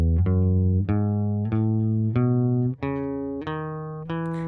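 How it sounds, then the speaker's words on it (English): Electric guitar notes picked with a plectrum near the bridge, about eight bright, spiky single notes struck in a steady sequence, each ringing briefly before the next, close and clear with no talking. "If I play it towards the bridge, I'll get a spikier kind of sound."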